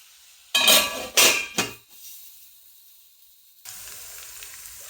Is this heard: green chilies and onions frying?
yes